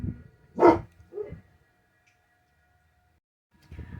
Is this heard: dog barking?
yes